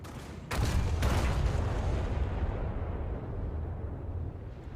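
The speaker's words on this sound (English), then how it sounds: "I normally use ranging shots, which actually fires the guns in a staggered fashion" Naval guns of the IJN Mikuma cruiser in War Thunder fire staggered ranging shots: a heavy boom breaks in with a couple of close, rolling blasts, then a long low rumble that slowly fades.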